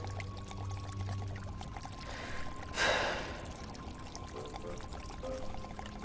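Water pours inside a giant water bomb in an animated cartoon, a continuous churning, gurgling wash with a sharp surging splash in the middle, heard alone without talk.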